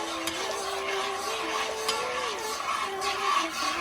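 Ginger being stirred into a simmering Mongolian chicken sauce gives a steady soft sizzle with light spoon scrapes, while a faint tonal hum runs underneath throughout.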